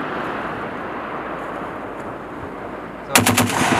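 An M2 machine gun at a live-fire event at Fort Indiantown Gap: after a long stretch of steady outdoor wind and rumble, a loud, close burst of rapid heavy rounds breaks out in the final moments.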